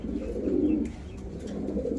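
Lahori pigeons cooing, soft low throaty coos close by in two short bursts, faint and alone.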